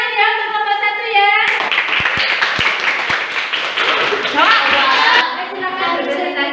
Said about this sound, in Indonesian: berikan tepuk tangan ya untuk kelompok 1